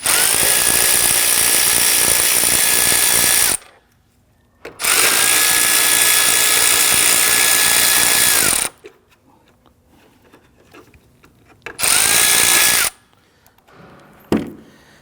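Power tool loosening two 8mm bolts on a 2012–2019 Ford Taurus airbox lid, three close bursts of high whirring with ratcheting, the first two long and the last shorter, separated by quiet pauses.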